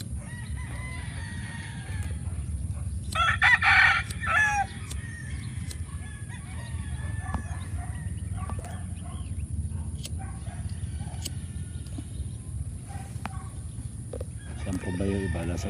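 Several roosters at a Philippine gamefowl breeding farm crow repeatedly, some close and some farther off, over a low steady background hum and occasional human voices nearby.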